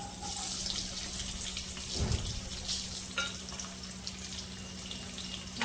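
Onions hit a hot pan already seasoned with a pinch of asafoetida for paneer masala, giving a steady hissing sizzle with a brief sharper burst partway through.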